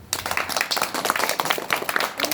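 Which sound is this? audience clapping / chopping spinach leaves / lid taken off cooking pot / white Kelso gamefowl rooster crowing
audience clapping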